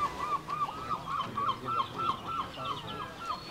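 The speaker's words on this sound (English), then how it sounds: "Hear the seagulls in the background" Seagulls call repeatedly in a steady, rhythmic series of squawks during an outdoor under-17 rugby union league final, fairly distinct above a soft crowd and ambient background.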